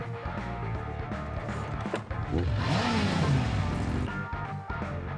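Car driving fast in the video game Zenless Zone Zero, a loud continuous engine roar with a rising and falling whine and passing whoosh under game music.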